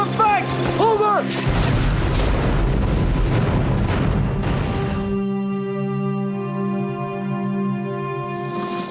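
Heavy artillery fire in a World War II war film sounds as loud, deep booms and rumbling blasts, with voices shouting over them before a sustained tonal drone takes over.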